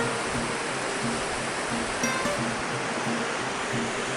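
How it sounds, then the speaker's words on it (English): A mountain river rushes along a trail in the White Mountains of New Hampshire, a steady broadband wash of flowing water, even and unbroken, heard close with no voices. "So I just stopped off right here to get one last look at the river."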